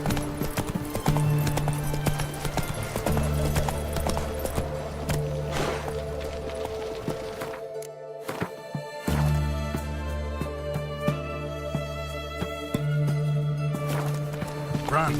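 Roach, the horse in The Witcher 3, clip-clops in a steady hoof rhythm over a game soundtrack, with a whinny along the way. The hoofbeats break off briefly midway, then resume.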